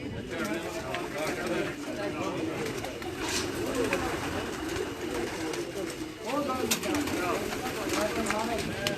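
High-flying competition pigeons, including a white one, coo in soft low murmurs after returning from flight. Voices talk over them throughout, with occasional rustling and light knocks.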